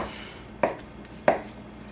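A knife chops dill pickle strips into tiny cubes on a cutting board, with two crisp, separate thwacks about half a second apart, close and clear against quiet.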